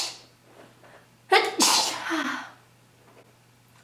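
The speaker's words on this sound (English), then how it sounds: "can never just sneeze once." Two sharp sneezes in quick succession, loud and close, after a quiet breathy lead-in.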